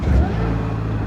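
A Mini Cooper S R56 with its turbo muffler deleted cranks and catches near the microphone, then settles into a loud, low, rumbling idle.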